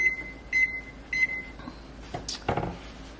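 A few short electronic beeps from a kitchen timer's keypad being set, then a clunk and rustle of handling nearby, with no talking.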